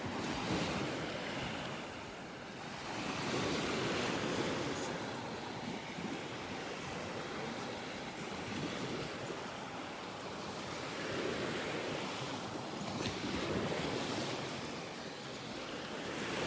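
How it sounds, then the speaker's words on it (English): Gulf surf rolls onto a North Naples, Florida beach on a stormy morning, a continuous roar of breaking waves swelling and easing in long cycles, with wind buffeting the microphone and no talk. "The waves are starting to pick up a little bit here."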